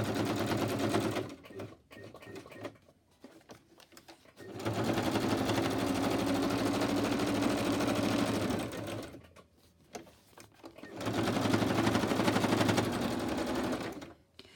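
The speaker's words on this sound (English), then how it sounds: "the sewing machine definitely does not like stitching through double-sided tape" A sewing machine stitching through double-sided tape for a Christmas gift-bag journal, running in three steady rapid bursts separated by short stops and softer back-stitching, close and fairly quiet.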